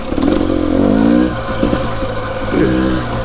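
A two-stroke dirt bike rides along a mountain trail, its engine close and loud with rising and falling revs, bursts of acceleration and mechanical clatter throughout.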